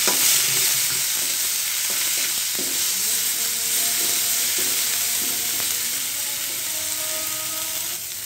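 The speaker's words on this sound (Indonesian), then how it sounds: "Selanjutnya panaskan minyak, tumis bumbu halus" Ground spice paste sautéing in hot oil, a loud continuous sizzle and hiss with occasional scraping stirs from a utensil in the pan.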